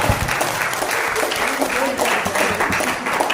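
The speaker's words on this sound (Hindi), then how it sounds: "एक जोरदार ताली इनके लिए भी हो जानी चाहिए" An audience at a seminar-style business event claps steadily and loudly throughout, a dense continuous applause with a voice speaking over it.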